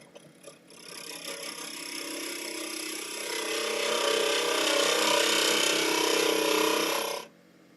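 A wood lathe spinning while a piece of wood is hollowed out, a steady motor whine with a hollow rushing tone that builds louder midway and then cuts off abruptly.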